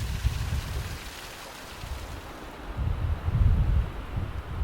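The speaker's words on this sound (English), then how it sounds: "This little mini Niagara is only about waist high, but it splashes so nicely" A tiny waist-high forest waterfall splashes in a steady, continuous wash of noise with a low rumble that swells louder toward the end.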